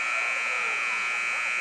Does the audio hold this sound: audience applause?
no